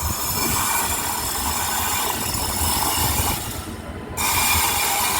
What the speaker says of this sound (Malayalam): അങ്ങനെ island express Parassala platform number 2-ലേക്ക് വരുന്നുണ്ട്.